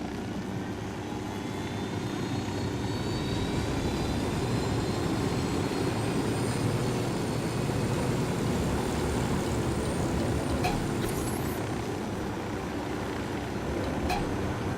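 Helicopter in the video game Ghost Recon Wildlands, a steady, loud rotor-and-engine drone that holds continuously throughout with no speech over it.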